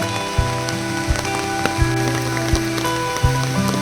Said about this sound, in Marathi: पाऊस आला मोठा पाऊस आला